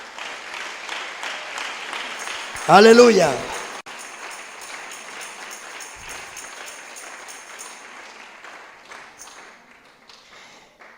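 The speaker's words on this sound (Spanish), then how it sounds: "Denle un aplauso al Señor." A church congregation at a Pentecostal anniversary service bursts into a loud, brief round of applause after talk, then a voice continues speaking over the fading room.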